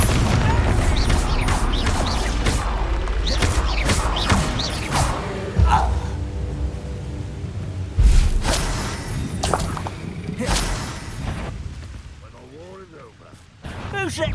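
A Bombarda spell explodes in Hogwarts Legacy, with loud booming blasts and shattering crashes repeating through the scene amid busy combat noise, while voices shout and speak over it.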